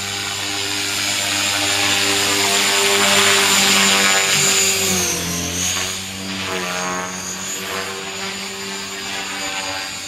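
A T-REX 500 EFL Pro electric RC helicopter flies on its first flight, its steady rotor whine and buzzing harmonics loud and continuous, shifting in pitch as it moves, with no talk.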